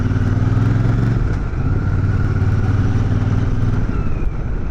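A Royal Enfield Super Meteor 650 cruiser is ridden on the road, its engine a loud, steady low drone with a brief dip in pitch as the throttle eases, joined by wind rush and no talking.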